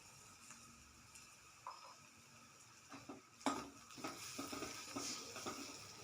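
Onion being sautéed in a pan with turmeric and red chilli powder for a chicken handi: faint, steady sizzle with soft stirring scrapes and a few light clinks of a utensil against the pan.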